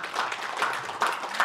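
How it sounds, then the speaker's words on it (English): A church congregation claps in praise during a sermon, producing a short, moderately loud patter of applause with a few swells. "How about a clap of praise to the Lord?"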